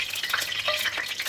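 Two red chillies frying in about half a cup of oil in a karahi over medium flame, giving a steady close crackling sizzle with brief pops and a soft stir, no voices.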